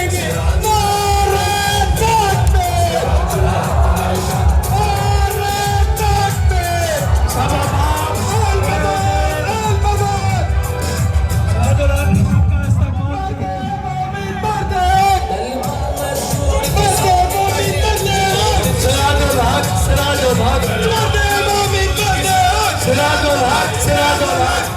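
A large outdoor political rally in Pakistan, where a crowd roars and shouts slogans back in loud waves under an amplified leader's voice, with constant hubbub and yelling throughout.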